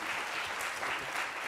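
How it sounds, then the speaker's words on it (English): Steady applause fills a conference hall at a privacy-focused event as the audience claps continuously for a speaker, dense and even from nearby, with no talking over it. "let's give a huge round of applause to our expert again"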